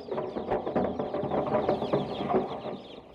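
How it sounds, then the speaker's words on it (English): Chickens clucking and cackling in a busy flock, with rapid overlapping calls continuing steadily at moderate volume and no talking. "Farmers started drowning their chickens."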